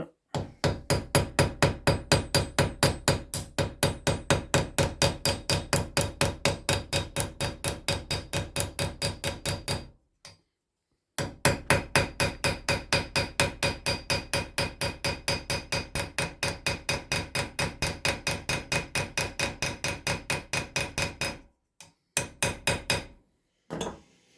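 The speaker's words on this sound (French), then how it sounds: "on va pouvoir l'écraser dans le petit chanfrein que j'ai fait pour tenir la lame. Je rivette." A hammer peens a rivet on a Laguiole folding knife with a long run of rapid, evenly spaced metallic taps, pausing briefly twice before finishing with a few last strikes.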